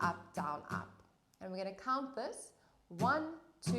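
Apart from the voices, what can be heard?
No everyday noises stand out.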